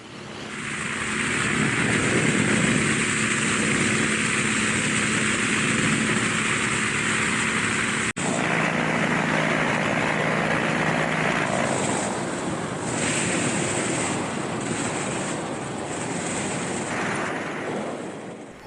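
A hovercraft skimming up the Knik River over water and gravel banks toward the Knik Glacier, a loud continuous roar of engine, fan and rushing spray with wind buffeting, no voices.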